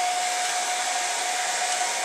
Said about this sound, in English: I do like a heat gun just because it's a little bit hotter